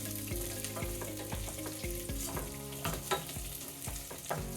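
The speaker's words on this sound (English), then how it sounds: "So I'll keep stirring this, toast up the rice" Rice toasts in a hot pan for Mexican rice, sizzling and crackling steadily while a utensil scrapes and stirs it in repeated strokes, loud and close with no talking.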